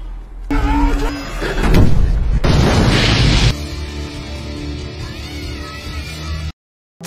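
A bomb detonates in a war film scene, a soldier in a bomb suit about 25 meters away: a loud, heavy boom and crashing blast that rolls on for several seconds before fading into rumble, then cuts to silence.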